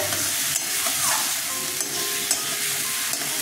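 Mustard-paste masala stirred as it fries in oil in a pan for a carp-style fish curry, giving a steady soft sizzle with faint scraping stirs throughout, close and alone.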